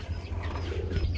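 Gulla pigeons cooing in a loft or market pen, a low soft rumbling coo that runs steadily through the short moment, close and moderately loud with faint chirps above it.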